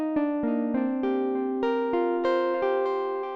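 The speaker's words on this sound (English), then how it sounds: "It sounds very harp-like," FM synthesizer keys with a plucked, harp-like tone play a sequence of about ten bright, decaying notes in a steady rhythm, clear and alone with no voice.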